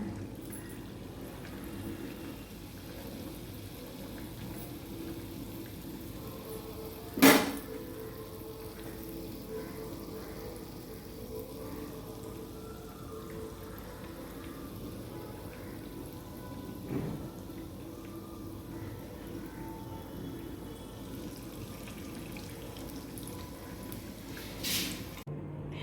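Battered stuffed chillies deep-fry in hot oil with a steady, soft crackling bubble that runs through the whole stretch, broken by a couple of brief sharper pops and knocks.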